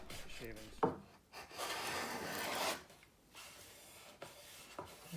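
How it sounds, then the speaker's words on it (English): A hand plane taking cuts against the grain on a wooden spar, with a few rough rasping strokes of a second or two each, close and fairly quiet, separated by brief pauses. "I think it's planing against the grain actually."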